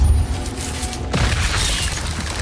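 A loud Depulso spell effect from the wizarding game Hogwarts Legacy: a dense whooshing boom with a sharp shift partway through, followed by a sustained rumbling burst.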